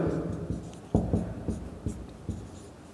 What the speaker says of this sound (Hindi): A + n-1 × D लिख देता हूँ एक बार